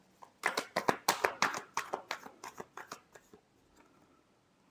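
Tarot cards being shuffled by hand, about a dozen quick crisp riffling snaps in a steady rhythm that grow softer and then stop, close up in a quiet room.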